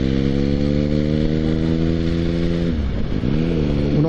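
A motorcycle engine runs at a steady mid-range hum after dropping one gear on a road, then the pitch dips and climbs again as the revs change near the end.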